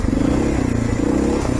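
A dual sport motorcycle riding slowly through blizzard snow, a loud, close, continuous engine drone mixed with rushing wind and rough clatter.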